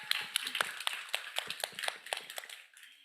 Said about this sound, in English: a round of applause, please, to the team in charge of our National Youth Chapters